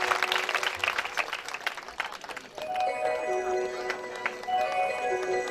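An audience at a Shrimad Bhagavat Katha religious gathering in a village claps to welcome the guru. Dense applause fills the first half, then gives way to ringing bell-like tones and scattered taps.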